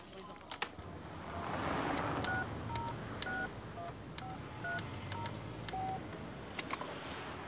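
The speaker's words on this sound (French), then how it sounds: "Allô, passez-moi Pierre Brochant, s'il vous plaît" A telephone number is dialed as a quick series of distinct keypad tones, steady and fairly clear over a background of broad wind-like rushing noise, with no talking.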